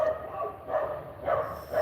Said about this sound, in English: My neighbor's dogs are going crazy over there.